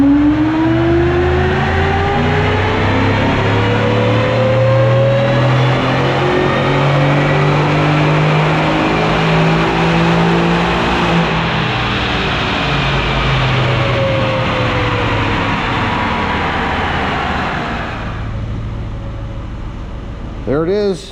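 A pickup truck fitted with high-flow catalytic converters is run hard on a dyno. A loud, sustained engine roar climbs steadily in pitch through a long pull, then eases off near the end.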